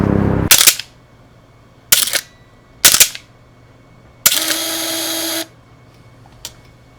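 A Hasselblad medium-format film camera makes several loud, close mechanical clacks of shutter and winding, spaced apart, with one longer buzzing whir before a faint final click.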